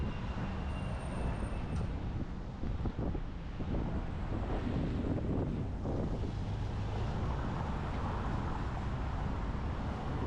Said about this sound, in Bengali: দারুণ বাতাস এখানে